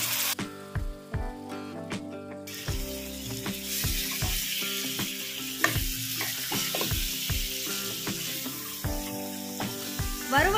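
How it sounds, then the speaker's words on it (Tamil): Mutton marrow bones being stir-fried with masala in oil, a loud crackling sizzle broken by regular clacking strikes and scrapes of a spoon against the pan, with a steady tonal hum beneath and no talking. "நல்லி எலும்பு சேர்த்து நல்லா பிரட்டி விடலாம்"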